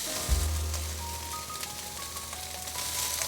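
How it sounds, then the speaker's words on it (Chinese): Wheat crisp pork slices stir-fry in oil in a pan, giving a steady, close sizzle that crackles evenly throughout over a low background hum. "再继续翻炒"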